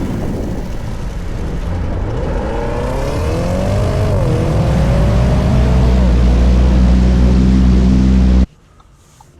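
Audi RSQ8 engine pulling under hard acceleration, a steady loud rising drone with climbing harmonics for about eight seconds before cutting off abruptly.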